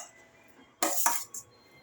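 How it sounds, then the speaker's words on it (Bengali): Pieces of fried cauliflower and potato, cooked with salt and turmeric, being tossed together in a bowl: a short scraping clatter of utensil against dish, followed by a brief second scrape, quiet and close. "এবার আমি এই সবজিগুলো সব একসঙ্গে মাখিয়ে নিচ্ছি"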